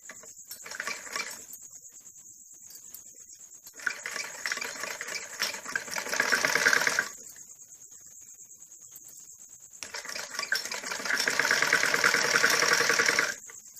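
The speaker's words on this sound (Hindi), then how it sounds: "इसके बाद बुकरम को, इस पट्टी को ऐसे पलट के इसमें ऐसे कन्नी पर सिलाई लगानी होती है" A sewing machine runs two steady bursts of stitching as it sews a folded buckram strip along the edge of a kurti, with quiet pauses between the runs and a thin constant whine underneath.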